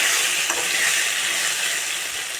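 Taro pieces go into hot oil tempered with salt, turmeric and chili powder, and a loud, dense hiss of frying fills the whole stretch evenly, close up and with no voices.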